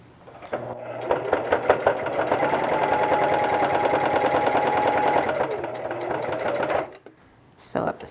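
Sewing machine running a side seam on a fabric face mask, its fast rhythmic needle clatter building into one sustained close run of about six seconds, then stopping, followed by a brief final burst.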